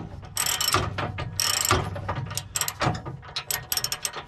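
A ratchet tightening a bolt on an aftermarket receiver hitch under a 2021 Ford Bronco, rapid close clicking strokes in several bursts, loud and mechanical.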